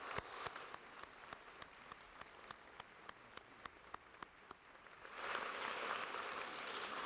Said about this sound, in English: Let's give him one last round of applause.